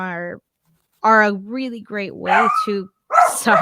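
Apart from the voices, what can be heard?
dog barking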